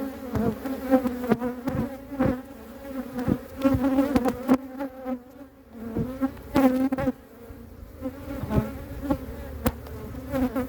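Honeybees buzz steadily and close while being moved from an old hive to a new one, a dense droning hum with sharp knocks and taps scattered throughout.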